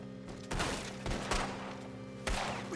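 Shotgun blasts ring out in a Red Dead Redemption 2 gunfight, with four loud, booming shots spaced irregularly across the moment and background game noise between them.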